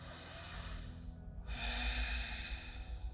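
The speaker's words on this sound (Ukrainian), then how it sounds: "Заключний глибокий вдих." Deep, slow breathing during a yoga sun salutation sequence, a long airy inhale-like rush that briefly drops away before a fuller, louder breath continues, close and alone with no talk.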